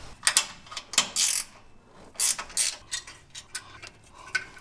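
Ratchet with a 10 mm socket working a factory bracket bolt loose on a Jeep JL Wrangler, giving several quick bursts of bright metallic clicking separated by short pauses, close and fairly quiet.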